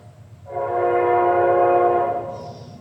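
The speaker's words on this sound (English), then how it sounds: "There's a train going by" A train horn sounds in one long, steady blast at night near a supposedly haunted spot, rising in after a brief lull and holding loud for over a second before fading; no one speaks.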